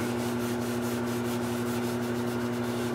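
Howard Feed-N-Wax finish is rubbed onto a turned rectangular winged wooden bowl, a steady, close scrubbing friction over a constant low motor hum, with no talking.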